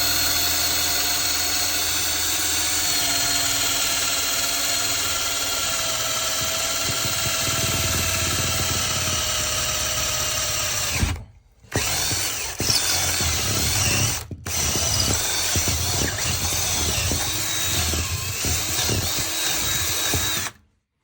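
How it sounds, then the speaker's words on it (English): A power drill bores a hole through wood in a house to pass a cable, loud and close, grinding steadily with two brief stops before spinning on and finally cutting off. "And now I will continue to drill the hole here"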